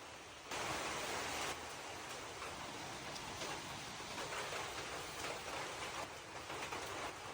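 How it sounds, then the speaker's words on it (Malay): Heavy rain pours down in a loud, unbroken hiss that swells abruptly after a brief quieter start and holds steady with slight surges. "Hujan Wak, lebat."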